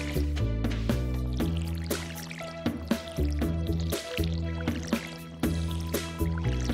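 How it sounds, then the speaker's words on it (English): Crops get watered in the Stardew Valley video game: repeated short splashy pours from the watering can land in a quick rhythm over steady melodic background game music. "Almost done watering these."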